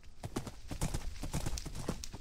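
Minecraft horse hooves clip-clopping in a quick, steady gait, close and clear, with a whinny mixed into the hoofbeats; no talk over it.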